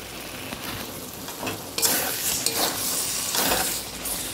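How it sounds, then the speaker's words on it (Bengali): Spice masala with salt and a little sugar is stir-fried in a pan for jackfruit and prawn curry, giving a steady close sizzle with scraping spatula strokes that grow louder after the first couple of seconds and repeat irregularly. "মশলাটা আমি আরও খানিকক্ষণ কষাবো।"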